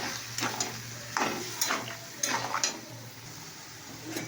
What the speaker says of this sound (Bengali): দেখো এটাও ভাজা হচ্ছে এখন